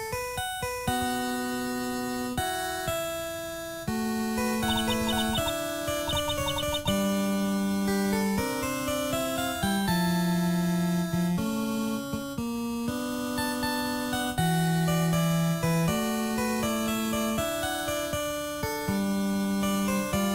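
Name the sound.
phone ringtone in the Ace Attorney video game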